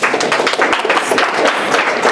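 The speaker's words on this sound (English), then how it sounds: "Did they get their applause yet?" A classroom audience claps for a group that has just presented, a dense, steady patter of many hands at close range that holds evenly throughout.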